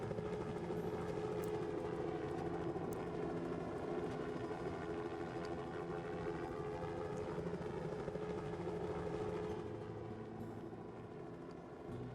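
Game helicopters from SimCity 4 droning continuously with a steady rotor-like whir and layered engine hum, loud and constant throughout before easing slightly near the end; no talking.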